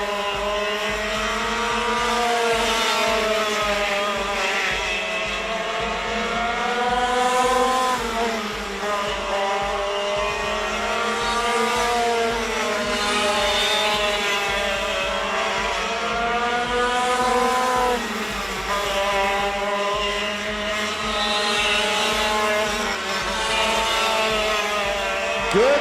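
Racing karts circling a speedway track, their engines whining in rising and falling rhythm as they pass through turns, loud and continuous over a low steady drone.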